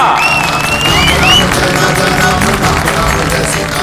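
Audience applause at a staged Ramayana scene, dense crowd clapping and cheering loudly and steadily for a few seconds, with a high whistle-like tone riding over the noise near the start.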